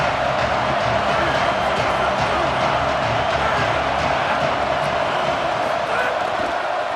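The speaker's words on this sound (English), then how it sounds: "Decibels rising as the crowd gets behind this defense on third down." Football stadium crowd at a Texas Tech vs Virginia game roaring steadily as the defense lines up on third down, a dense, loud wall of cheering that holds from start to finish without a break.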